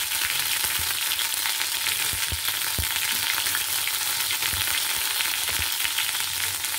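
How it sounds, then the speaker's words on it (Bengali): Ginger and green chili paste frying in mustard oil over low heat with five-spice seeds, giving a steady close hiss and crackle with scattered stirring knocks throughout. "এবারে দিতে হবে আমাকে একটু আদা আর কাঁচা লঙ্কা বাটা"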